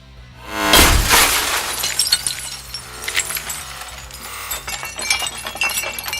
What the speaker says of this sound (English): Let's take this knife out back and bust through a car window with it